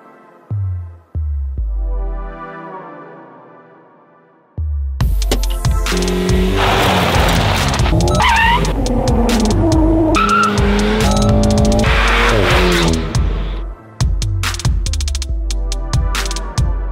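A Renault Alpine A110 with a 252 hp 1.8-litre turbo engine launches from a standstill in a 0-100 km/h run. A few short engine blips lead into a loud, sustained acceleration with squealing tyres and rising revs through gear changes.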